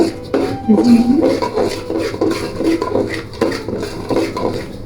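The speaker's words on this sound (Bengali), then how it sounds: "কাউনের চাল নিয়েছি চালটা আমি হালকা টেলে নেবো" Foxtail millet rice stirred as it toasts lightly in a pan gives off steady, rhythmic scraping and light clattering of the utensil against the pan, close and fairly loud, with no talk.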